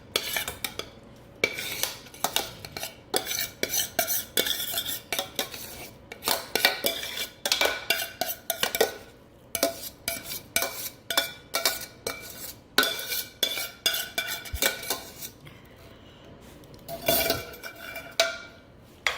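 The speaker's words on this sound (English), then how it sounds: "you're gonna just dump your whole thing of dirty rice in there" Dirty rice is dumped and scraped into a casserole pan with a utensil, making repeated clattering and scraping strokes against the dish in irregular bursts, close, with no talking.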